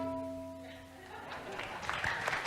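Someone claps along at a medical conference on rhythm and healing, a spread of scattered claps building after a sustained tone fades, with speech underneath.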